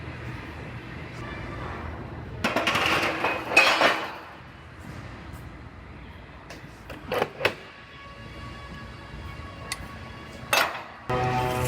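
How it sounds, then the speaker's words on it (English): Metal clamps being fitted onto the rear panel of a rear-damaged Buick in a body shop, heard as scattered metallic clanks and clinks, with a cluster of louder knocks early on and a few sharp taps later, over a low workshop hum. "I'm gonna go ahead and get this one in clamps first"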